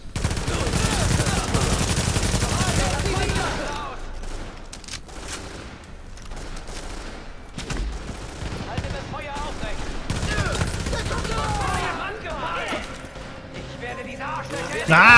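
Bursts of rapid gunfire and scattered shots ring out amid sounds of the video game The Division, with people talking over the action at times.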